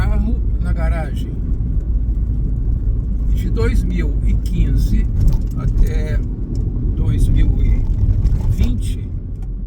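Smart car engine running steadily while driving, a loud continuous low rumble and road noise under someone talking throughout.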